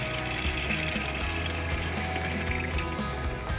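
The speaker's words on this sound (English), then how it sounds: "Got all of our lights set up here, the water pump obviously, we're running taps." Water runs from a tap in a camper, fed by an onboard water pump, giving a steady close rushing and splashing flow that continues evenly throughout with no talking.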